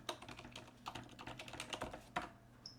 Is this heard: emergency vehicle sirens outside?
no